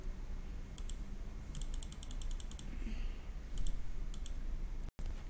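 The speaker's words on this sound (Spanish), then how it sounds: "Lo siento si se escucha mucho el clic del mouse, pero es que en Minecraft todo es con el clic" Computer mouse clicks while playing Minecraft: quick bursts of sharp, close clicks in rapid runs, with pauses between clusters and a low background hum.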